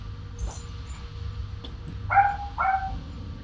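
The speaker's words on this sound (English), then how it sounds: "I'm going to go actually feed the dogs now because it's time to feed them, but Toots is being annoying" Pet dogs, including one named Toots, at feeding time give a few sharp barks followed by two high, drawn-out whimpers, close by in a quiet room.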